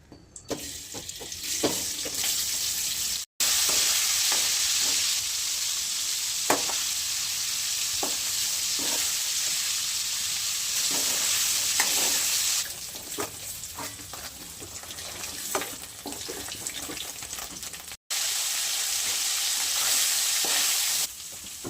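Paneer pieces fry in a generous amount of oil in a kadhai for paneer tikka masala, a loud continuous hissing sizzle with occasional scraping stirs and two brief silent breaks, close and without speech.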